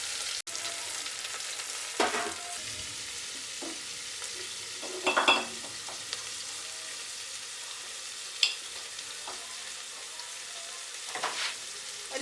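Chopped onions fry with spices in a pressure cooker for beef biriyani, giving a faint, steady sizzle broken by a few sharper scrapes and knocks of a spoon stirring the pot, close by and with no talking.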